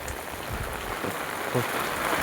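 Steady rain falls nearby, a constant hiss of drops on surfaces with no voices.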